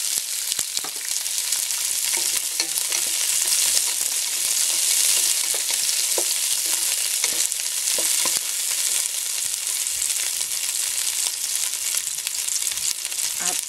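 Onion and garlic fry in a pan for chopsuey, a dense, steady high crackling sizzle lasting the whole time, close and loud, with faint stirring scrapes beneath it.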